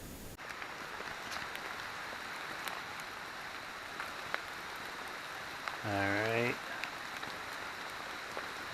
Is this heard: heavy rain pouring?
yes